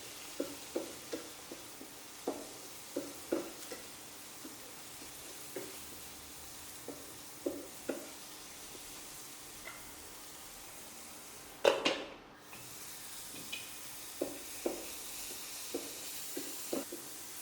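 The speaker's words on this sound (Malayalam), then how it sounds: "തക്കാളി നന്നായിട്ടൊന്ന് വഴറ്റിയെടുക്കണം നമുക്ക് ഉള്ളിയുടെ കൂടെ ഒന്ന് വഴറ്റിയെടുക്കാം" Tomatoes and onions sauté in a pan for an Arabian egg dish. A low, quiet sizzle runs throughout under light, regular clicks of stirring, with one louder clatter partway through.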